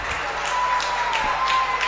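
Applause from a crowd at a women's Serie A1 basketball game in Italy, a steady wash of clapping lasting the whole moment under an announcer's voice.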